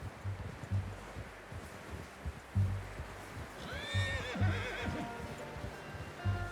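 Hooves clip-clop steadily as a horse in the video game Red Dead Redemption 2 gives a loud, shrill whinny midway, with rustling background noise.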